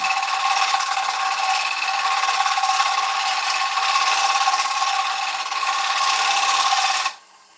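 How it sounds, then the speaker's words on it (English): A 3/8 bowl gouge makes a light cut over the rim of an oak bowl spinning on a wood lathe, a steady close scraping hiss that runs unbroken for seven seconds and then stops abruptly. "I'm going to use this left-hand bevel now on the 3/8 bowl gouge. I'm just going to lightly go over the rim."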